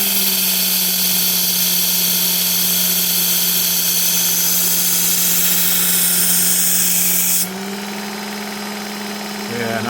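A Civivi Naja knife blade worked against a powered sharpener to raise a burr, a loud steady whine and hum that drops in pitch and level toward the end, with no talking.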